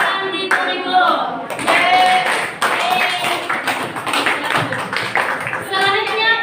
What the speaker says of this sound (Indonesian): Jadi aplaus untuk kelompok Pangeran Diponegoro